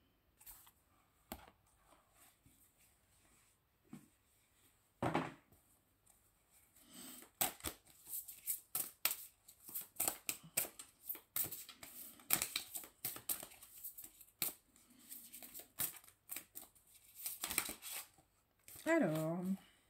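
Oracle cards shuffled by hand for a reading, a quiet run of riffling and sliding card taps with a few sharper snaps, broken by short stretches of near silence, with a voice speaking briefly near the end.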